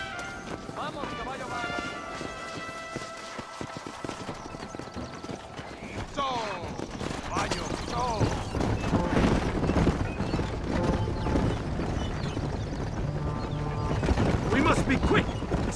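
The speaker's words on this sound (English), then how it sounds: "You can take your horse or ride on the wagon." Horses clip-clop and gallop at a steady run in a Mexican setting in the Red Dead Redemption video game, with a brief whinny, under ongoing character dialogue and a game soundtrack.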